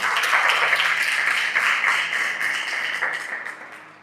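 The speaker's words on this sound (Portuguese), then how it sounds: "Você pode dar mais uma salva de palmas?" Church congregation applauding together, a steady dense clapping that stays loud for about three seconds before thinning and fading out, with no voices over it.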